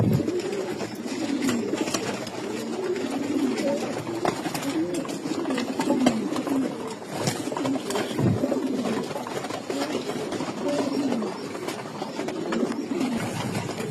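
Racing pigeons cooing inside a loft, repeated soft throaty coos from several birds close by under a low background hum, with brief clicks and rustles scattered through.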